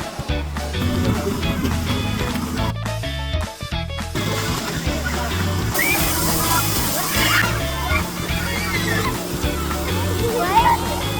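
Continuous sloshing and splashing water fills the scene as kids play in water at a fire and rescue station, with children's voices and shouts mixed in throughout, busy and close.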